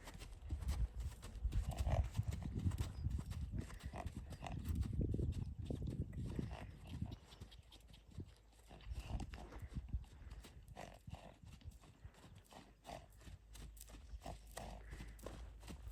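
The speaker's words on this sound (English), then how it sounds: "what are you snorting about, buddy?" A horse snorts with a few low, breathy bursts early on while its hooves clop in an irregular, fairly close rhythm throughout. No voices are heard.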